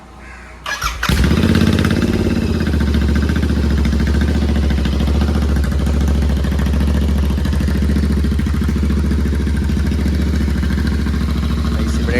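A Royal Enfield Interceptor 650 fitted with a Red Rooster exhaust fires up with a sharp crank and catch, then settles into a loud, steady, throaty twin-cylinder idle that holds close and unbroken.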